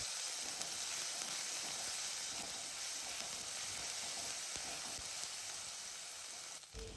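Ginger garlic chilli paste sautéing in hot oil for a Kerala-style squid roast, a soft continuous sizzle and hiss, fairly quiet and steady throughout with no voices.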